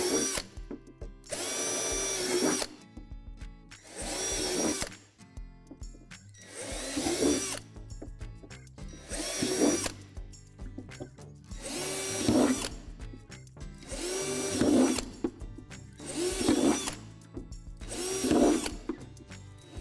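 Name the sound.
power drill drilling holes in plastic playhouse sink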